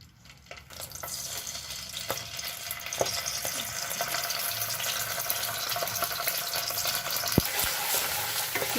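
Ginger garlic paste fries over high flame in a pan for restaurant-style chilli chicken, a steady close sizzle with scraping stir clicks and a few sharp taps, continuous and fairly quiet throughout.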